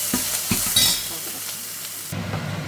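Spice tempering for rasam sizzles in hot oil in a pan with a steady frying hiss. A few soft stirring knocks sound near the start, and the hiss swells slightly toward the end.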